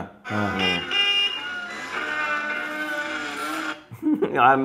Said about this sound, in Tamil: இங்க இருந்து அங்க ஹார்ன் அடிச்சுக்கிட்டே இருக்கானா